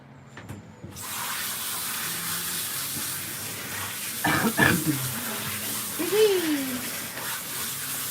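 Running water sprays as a dog is rinsed during grooming, a steady hiss throughout. Brief thumps and handling noises break in midway, and a voice speaks briefly near the end.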